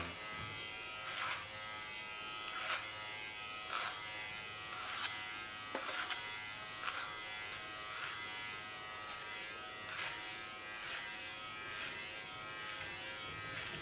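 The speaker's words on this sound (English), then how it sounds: "Take my large clipper, I take my flat comb, I start by taking off some hairs." An electric hair clipper fitted with a flat comb cuts hair short on the sides and neckline. A steady close buzz is broken by regular brief, brighter bursts as it bites through hair, with no talking.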